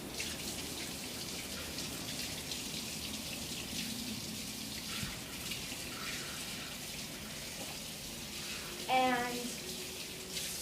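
Water runs steadily from a kitchen tap as hands are washed, a continuous hiss with brief splashes, while a voice speaks faintly in the background.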